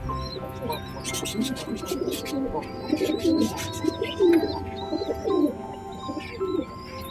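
Pigeons coo softly and repeatedly in low, throaty rolls, close by, with faint chirps in the background.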